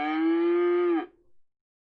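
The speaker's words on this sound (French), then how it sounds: "Fais-moi le bruit d'une vache." A cow moo played back by a smart speaker's voice assistant: one loud, steady, harmonic moo lasting about a second, ending abruptly, with a short faint tail and then silence.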